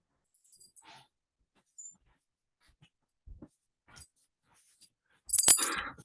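A young dog whimpering softly and moving about a quiet room, with scattered paw taps, faint jingles and a short louder rustle near the end.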